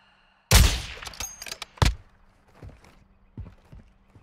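Sniper rifle fire in the DMZ shooter game: a loud close shot followed by several more sharp reports and thuds spaced irregularly, fading to quieter impacts.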